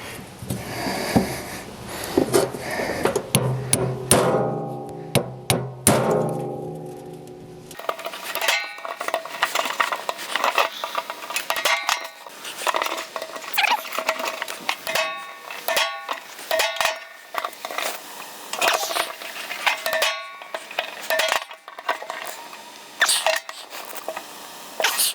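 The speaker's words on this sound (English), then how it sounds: "Let's just try the impact driver." An impact driver works on seized screws on a Trail Wagon TW200 UTV, giving dense metallic clatter and rapid hammering bursts close up, with a whirring tone in the first few seconds.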